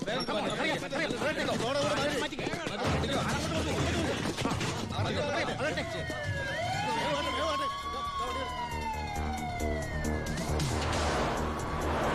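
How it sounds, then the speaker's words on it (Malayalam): A fire engine siren wails in with rising and falling sweeps, growing clearer over a busy, loud mix of other sounds and voices. "ഏത് നിമിഷം അവിടുന്ന് ഫയർ എഞ്ചിൻ വരും"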